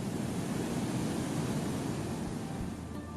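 Victoria Falls on the Zambezi River pours down as a steady, broad rushing roar heard from a distance, constant and unbroken with no voices.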